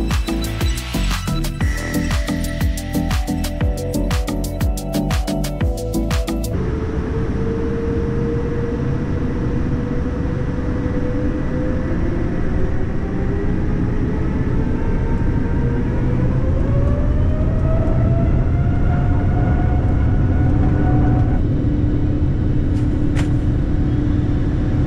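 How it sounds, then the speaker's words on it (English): Singapore Airlines airliner taking off, heard from inside the business class cabin, a loud steady engine roar building with a rising whine and constant rumble throughout, with a brief clatter at the start. "Time for the takeoff."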